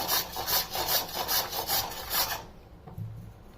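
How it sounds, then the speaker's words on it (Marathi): Raw mango grated on a large coarse grater: about eight steady rhythmic rasping strokes, close and fairly loud, then it stops into quiet with a faint thud. "याला आता आपण किसून घेऊया"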